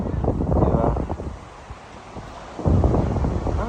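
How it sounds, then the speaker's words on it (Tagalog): Wind gusts buffet the microphone outdoors in Hobart, Tasmania, a loud rumbling roar that swells, dips briefly in the middle and surges back, close and uneven. "Ang sarap ng hangin"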